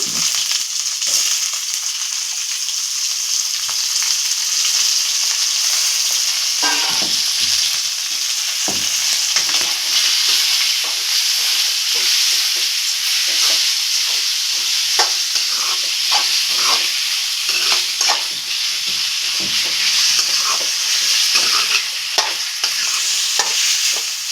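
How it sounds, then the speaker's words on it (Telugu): Chicken pieces fry and are stirred in a pan for a chicken curry, with a steady loud sizzle punctuated by scraping, clattering stirring strokes throughout. "చికెన్ వేస్తున్నాను"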